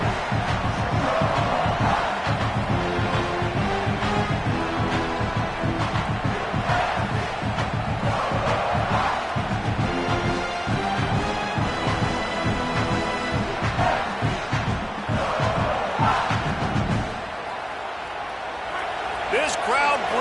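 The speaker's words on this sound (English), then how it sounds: "This crowd bringing the energy and noise early." Stadium crowd roaring and cheering in the College Football 27 video game, a dense, loud, continuous wall of noise with thumps and chants, running under commentary before dropping off near the end.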